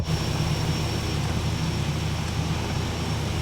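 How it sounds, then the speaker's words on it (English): A Pilatus PC-12 turboprop taxiing on the ground gives a steady, loud engine drone with a low humming tone that holds constant throughout, with no voices. "Taxiing speed is a little bit horrendous because there's no condition lever in which to set, you know, idle."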